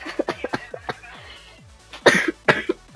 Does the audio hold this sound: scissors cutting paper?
no